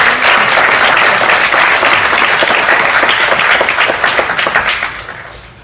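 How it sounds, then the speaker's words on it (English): Loud, dense applause from the audience greets a dancer at the end of her Arangetram debut on stage. The steady clapping holds for several seconds, then tapers away near the close. "A big round of applause to Nitya."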